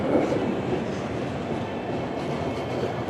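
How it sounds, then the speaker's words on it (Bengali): The Kamakhya–Anand Vihar train rolls into Alipurduar Junction station with a continuous low rumble and rail clatter, heard steadily at moderate distance without speech. "এই যে এখন ট্রেন ঢুকছে আলিপুরদুয়ার জংশনে, কামাখ্যা আনন্দ বিহার।"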